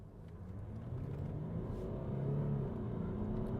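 A Jaguar XFS accelerating hard, its exhaust giving a steady, fairly faint engine drone that rises gradually in pitch, heard from inside the car with no talking.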